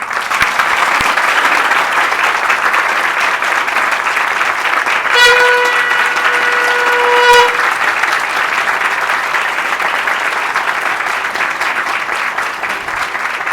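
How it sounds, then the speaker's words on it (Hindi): Fifty or sixty people at a Hindi spiritual talk clap loudly and continuously for over ten seconds, a dense, even roar of hands, briefly joined midway by a sustained harmonic tone. "मेरे लिए तालियां बजाओ।"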